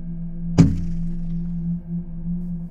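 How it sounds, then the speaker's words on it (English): A snowball strikes a bedroom window on a winter night with one sharp, fairly loud thunk against the glass, then fades into a steady low background hum. "The sound of a snowball hitting the window."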